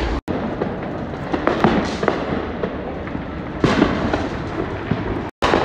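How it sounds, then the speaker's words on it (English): Fireworks explode over a neighborhood in a dense, continuous barrage of loud crackling bursts and booms, with sharp pops scattered through the rumble, close and overwhelming. "I ain't never seen a fireworks show like this in my neighborhood."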